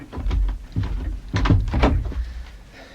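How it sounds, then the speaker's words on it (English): An interior door in a radio drama set in a house opens with a few close thumps and knocks, irregular and dull, bunched near the middle of the short stretch with no talk. "Well, come on, open the door."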